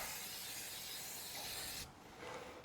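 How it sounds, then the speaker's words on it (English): A steady spray-paint aerosol hisses continuously for nearly two seconds across a laser-engraved plaque, then cuts off abruptly, followed by a short, quieter burst. "I'm going to shake this good and then spray it across this way."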